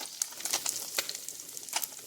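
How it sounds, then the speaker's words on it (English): Tofu fries in a hot pan, a soft continuous sizzle with crisp spits and pops scattered across it, close and alone. "And now I'm frying up the other side."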